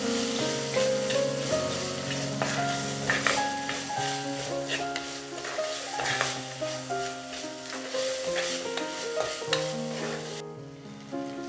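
Tomatoes with turmeric and salt cook over a low flame while a spoon stirs them, a close sizzle laced with repeated scraping strokes against the pan, with a steady tonal hum underneath and no speech.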